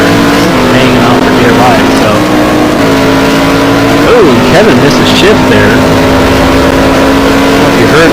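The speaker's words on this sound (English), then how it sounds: "So, Kevin misses shift there" A race car engine in a racing video game at Estoril, roaring loud and continuous with a brief stumble and wavering pitch on a missed gear shift partway through.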